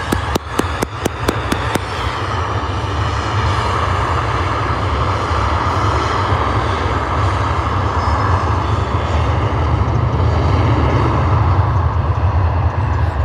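A departing airliner at Liverpool Airport, bound for Vienna, roars with a steady, loud jet engine rumble throughout, preceded by a brief series of sharp clicks at the start.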